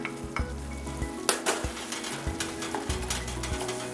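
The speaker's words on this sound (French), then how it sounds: "On mélange bien pour tout intégrer notre pomme de terre à la viande." A spoon stirring mashed potato into cooked ground meat in a pot for a Québec tourtière filling, soft scraping strokes and a few sharp clinks against the pot, near and fairly quiet, with no talk.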